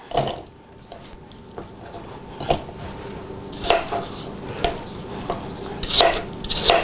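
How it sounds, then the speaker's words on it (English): Cut apples scooped and moved into a bowl while making apple brown betty: scattered clinks, taps and knocks of utensil against bowl, irregular and close by, growing busier toward the end, with no one speaking. "So as we cut all this, we'll go ahead and move this into our bowl."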